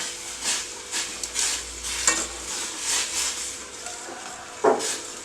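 A spoon stirring a flaxseed and aloe vera cream mixture in a pan on a stove over medium heat, with soft scraping strokes in an irregular rhythm, close and fairly quiet, with a brief sharper scrape near the end.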